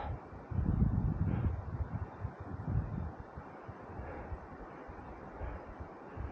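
Faint wind on a mountain near Obergurgl, Austria, rumbles against the microphone in uneven gusts, stronger at first and then settling into a low, intermittent buffeting.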